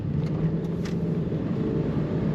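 A 2002 Ford Thunderbird with an automatic transmission accelerating, a loud, steady low engine rumble heard from inside the car, holding evenly throughout with no voices.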